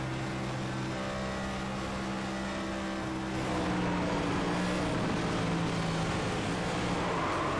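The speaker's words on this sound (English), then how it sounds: "Let's listen on in here how these tires sound" A racing car in a racing video game roars at close range with a steady engine drone, and tire noise builds toward the end.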